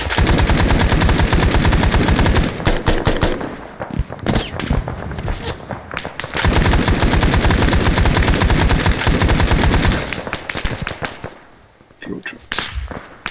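Dense, loud automatic gunfire fills a battle in the military video game Arma 3, rapid bursts running almost continuously with brief lulls, while a voice talks over the shooting.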